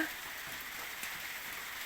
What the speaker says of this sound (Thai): ชมบรรยากาศฝนตกลินกันค่ะในสวนค่ะ